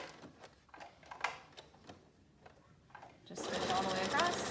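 A sewing machine starts stitching a beach bag, a rapid, close mechanical whir that begins abruptly near the end after a stretch of light handling clicks and someone speaking.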